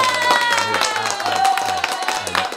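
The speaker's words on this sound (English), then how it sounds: "let's get some hand applause" Live studio audience clapping in a dense, lively burst, with a voice and crowd noise mixed in and music tones running underneath.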